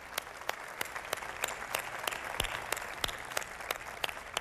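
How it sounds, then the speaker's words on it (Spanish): Applause for young people at an open dialogue event with the president: a crowd claps steadily with some sharper individual claps standing out in a continuous, moderately quiet patter. "también un aplauso a todos los jóvenes que aceptaron el reto a estar aquí esta noche"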